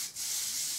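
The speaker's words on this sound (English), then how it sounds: "So I just spray a bit on it," Patrick Ta Major Glow highlighting mist sprays onto a makeup brush in one short, close, steady hiss that starts after a brief puff.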